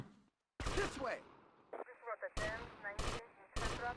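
Gunfire in GTA Vice City Definitive Edition, with several sharp bursts of shots in quick succession separated by short gaps, loud and close, while someone talks between them.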